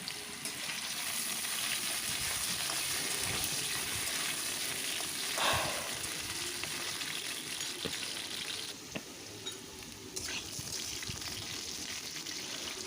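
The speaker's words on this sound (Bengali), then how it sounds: "তেলটা গরম হতে এতে আমি আলুগুলো দিয়ে দিচ্ছি আলুটাকে ভালো করে লাল করে একটু ভেজে নেবো" Potatoes fry in hot white oil in a wok, giving a steady, close sizzle that holds through the whole stretch with brief stirring clatters and no talk.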